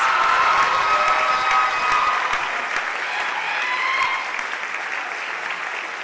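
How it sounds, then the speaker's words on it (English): Loud, sustained applause from a large crowd at a high school senior awards night, with scattered cheers and shouts, steady throughout and easing slightly toward the end. "Let's have a final round of applause for the heart of each of these Hawks."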